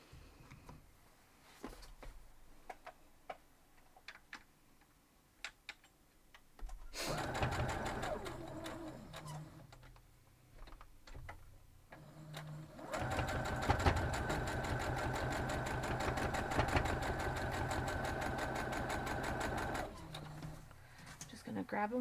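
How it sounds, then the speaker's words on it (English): A sewing machine runs in two bursts of rapid, even stitching while sewing a quilt block, separated by quieter handling clicks and fabric rustles. "I'm going to fold this over and sew it"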